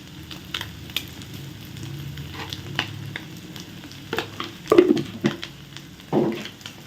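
Vegetables sauté in a pan for Maggi noodles, a close, steady sizzle with occasional louder stirring scrapes and crackles.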